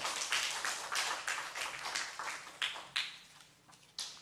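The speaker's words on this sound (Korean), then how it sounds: "하나님께 영광의 박수 올리겠습니다" A church congregation claps during a revival meeting, a quiet, scattered run of separate hand claps, fairly evenly paced, with gaps between the sharper ones toward the end.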